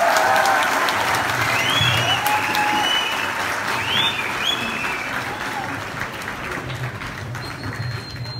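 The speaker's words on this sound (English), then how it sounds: "shall we give them all a big round of applause?" Sustained audience applause for student dancers at a school event during a bishop's visit, steady clapping with some cheering whistles, continuing at full strength throughout.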